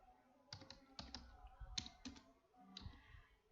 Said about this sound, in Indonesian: Maka saya mulai mengetik soal.